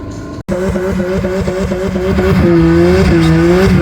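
Cars drag race, a manual Audi S1 against a DSG Audi RS3, with loud, close engines roaring steadily as they rise through the gears, a short break in the sound early on, and no voices.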